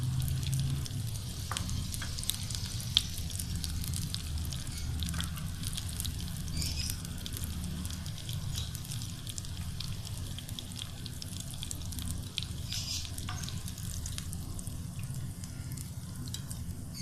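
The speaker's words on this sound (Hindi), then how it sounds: "टिक्कियाँ हमारी फ्राई हो गई हैं" Chicken burger patties fry in a pan with a quiet, continuous sizzle and faint crackle, with no voices.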